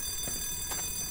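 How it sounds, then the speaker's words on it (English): Shrill alarm in the video game Black Mesa, a steady high ringing tone with brief pulsing bursts, fairly faint and without talk. "it's loud alarm"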